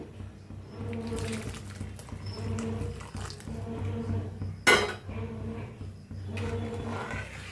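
A spoon scrapes and clinks against a cooking pot while egg curry is stirred, with repeated metallic scraping strokes and one sharp clank partway through.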